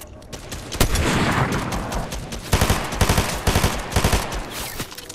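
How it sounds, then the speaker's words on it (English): Rapid bursts of video-game gunfire from another player crackle loudly and repeatedly, with sharp volleys clustering near the middle and end amid constant battle noise. "somebody else is shooting at us"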